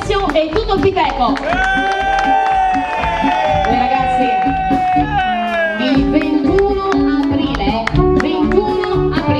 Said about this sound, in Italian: L'applauso a Ezio e tutto il Piteco.